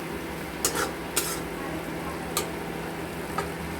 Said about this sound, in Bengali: যতক্ষণ না চিকেনটা মশলা থেকে তেল বেরোচ্ছে, ততক্ষণ আমরা চিকেনটাকে কষে নেব